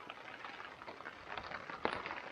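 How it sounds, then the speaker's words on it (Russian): Rain falling steadily during a mountain lake hike, a soft continuous hiss with scattered drops and gusty bursts, quiet and diffuse, with no voices. "Будем пережидать дождь."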